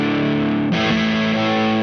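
Crunchy electric guitar chord through a Soundbox Workshop 1993 Overdrive pedal and a Torpedo Captor X rings out steadily, then shifts to a new sustained chord partway through, with thick distortion throughout.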